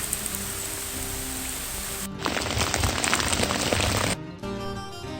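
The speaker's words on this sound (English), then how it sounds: "I can deal with the rain" Rain pattering steadily during a kayak trip, a dense loud hiss of drops on surfaces, continuous throughout with abrupt shifts in texture as the recording cuts between moments.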